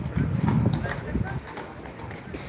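Horse hooves clip-clop on a street in old-town Salzburg, Austria, in quick, close, uneven strikes that fade a little toward the end, while voices talk over them.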